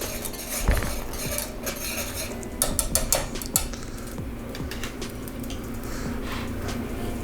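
A whisk or spoon scrapes and clinks against a metal pot of chai with spices, a steady run of close, light metallic stirring with a few sharper knocks, and no talking.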